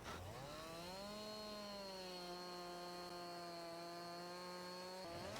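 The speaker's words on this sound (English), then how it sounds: "with a chainsaw," Chainsaw in Farming Simulator 22 cutting trees on a farm, a steady high revving engine drone that holds level and close for about five seconds with no talk over it.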